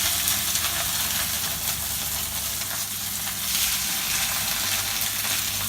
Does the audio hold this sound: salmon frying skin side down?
yes